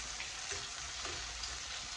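Sausage fries in a pan with a constant, close hiss and crackle, broken by a few small pops, and nobody speaks over it.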